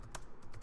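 Computer keyboard typing during a short tech talk demo, a few quick close key clicks in brief bursts with no voice over them.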